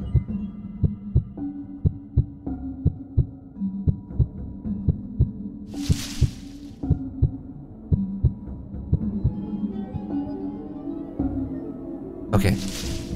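A steady heartbeat pulses through a tense stealth scene in the video game Paper Lily, regular thumps under a low ambient drone, broken by a couple of short hissing bursts.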